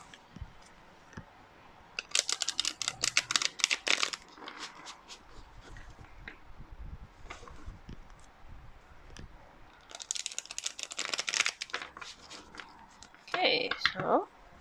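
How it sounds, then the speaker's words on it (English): A deck of cards is shuffled during a tarot-style card reading, with two bursts of dense crisp riffling and flicking up close, separated by quieter handling and a final short flutter. "Now I'm going to shuffle the deck so that you feel more connected with the reading."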